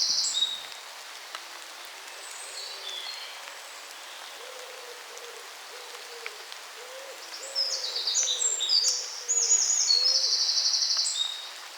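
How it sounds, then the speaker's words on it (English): Steady rain patters on leaves in a spring woodland while a pheasant gives hoarse, repeated squawks, a burst early on and a longer run near the end. "Hear the rain on the leaves, and the squawk of a pheasant."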